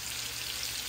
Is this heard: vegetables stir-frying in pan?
yes